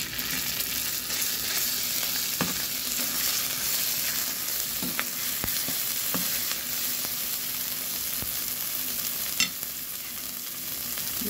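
Garlic frying in a pan gives a continuous even sizzle, with occasional sharp pops and light stirring taps.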